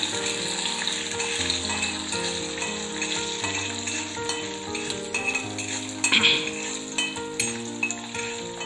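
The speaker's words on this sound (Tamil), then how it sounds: "ரெண்டுத்தையும் நல்லா வறுத்தெடுத்துடலாம்." Urad dal and chana dal roasting in a pan: a continuous frying sizzle with occasional scraping stirs and utensil clinks, set under steady background music.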